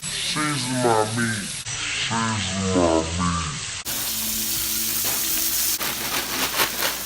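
Burgers frying in a pan, a steady loud sizzle throughout with a voice talking over the first half.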